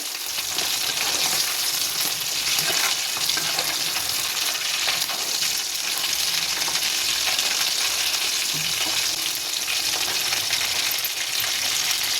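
Continuous loud sizzling of anchovies frying in hot oil in a pan, a dense crackling hiss with occasional stirring sounds, no talking.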